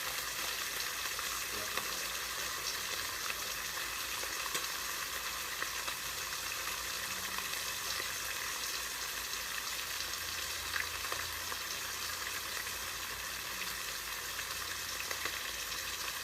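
Bacon fries in a pan with a steady, dense sizzle that stays even and close throughout, with faint occasional clinks and no talking.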